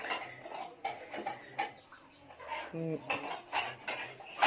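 Cooked food being scooped from a pot onto a plate in a home kitchen in Chiang Mai, with a series of close, bright clinks and scrapes of a utensil against dishes, irregular and sharp, and no talking.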